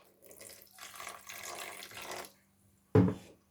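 Water is poured into a cauliflower pakora batter in a home kitchen, giving a few seconds of steady splashing. After a short pause, one louder, brief gush follows.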